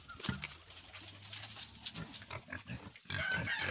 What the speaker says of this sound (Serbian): Svinjice.